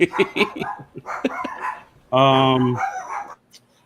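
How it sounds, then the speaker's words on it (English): A dog barks and yips several times at close range, with one longer whining howl in the middle, while people talk over and around it. "Is that your dog?"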